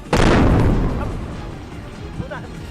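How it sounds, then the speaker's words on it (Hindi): A single loud bomb explosion booms out nearby at Aden airport, then its deep rumble slowly fades while faint voices sound in the background. "मंत्रियों के विमान के ठीक सामने जोरदार धमाका हो गया।"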